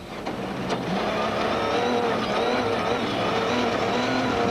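Rally cars racing, a GBS Racing Nissan passing at speed: a steady, loud engine drone with shifting tonal whine holding throughout, close and continuous.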